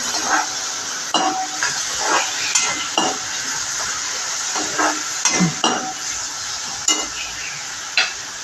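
Hot oil hisses and crackles steadily with tempering spices while a utensil clinks and scrapes against the pan in irregular knocks.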